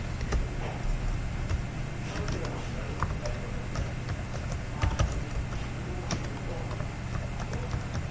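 Fingers type on a computer keyboard while an online DS-160 visa application form is filled in, producing rapid, close, irregular key clicks at a steady pace throughout.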